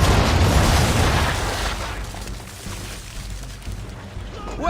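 Ship cannons fire round shot in a naval battle in Assassin's Creed 3, a loud booming volley at the start that rolls off into a long rumbling decay over water and wind.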